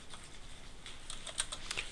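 Light, quick keystrokes on a computer keyboard, faint and fairly close, with several sharper clicks near the end and no talk.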